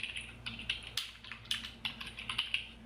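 Typing on a computer keyboard to enter a new library name, a quick irregular run of sharp, close key clicks with short pauses between bursts and no talking.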